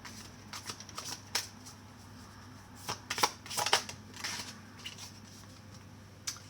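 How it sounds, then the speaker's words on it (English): A Modern Love tarot deck being shuffled by hand, with soft riffling and card flicks that peak in a brief burst of shuffling near the middle, quiet and without speech. "We're going to use Modern Love Tarot by Ethany"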